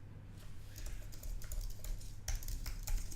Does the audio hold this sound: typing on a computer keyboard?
yes